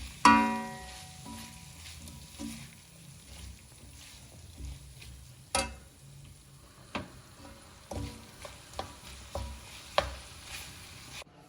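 Onions and green chillies frying with spices produce a low, faint sizzle, with sparse clicks and knocks of a utensil against the pan.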